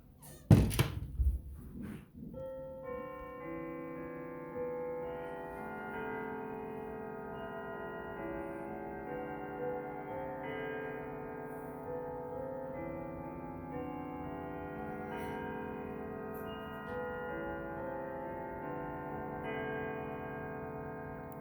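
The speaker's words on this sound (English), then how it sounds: "here's what it sounds like on the St. Michael's chime with the door closed." A 1981 Howard Miller triple-chime grandfather clock with its door closed rings a sustained St. Michael's chime sequence of overlapping bell tones that ring on for many seconds. Several loud thunks open the passage.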